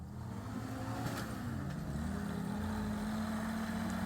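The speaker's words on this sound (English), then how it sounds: "Dave spun the tires and warmed them up." An antique Jeep in Pritchett Canyon spinning its tires, a steady low engine drone with a rising, sustained tone as the wheels spin, heard from a short distance.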